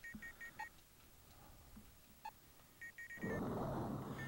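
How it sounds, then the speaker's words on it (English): Electronic beeping effects from the Sega Saturn game Space Hulk play as short, quiet bursts of repeated bleeps in quick runs, followed near the end by a sudden louder burst of harsh noise. "all I hear is like little beeping."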